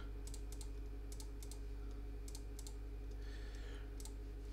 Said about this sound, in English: The joys of just shift left clicking.